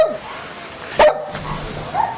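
A dog at a rural home in Puerto Rico, where geese and chickens are also kept, gives one sharp bark midway. Softer yelps come before and after it, all fairly close.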